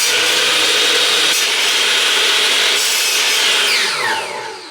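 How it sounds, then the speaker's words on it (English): Drop saw powered from a Jackery portable power station slicing through wood in a shed, a loud continuous whining cut that runs steadily for several seconds, then winds down at the end. "the drop saw is probably one thing that I use the most in the way of power tools in the shed"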